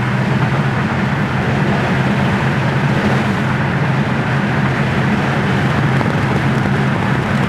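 A 1967 Ford Fairlane GTA cruising on the road at about seventy miles an hour, a steady loud blend of engine drone, tyre roar and wind noise with no break or voices.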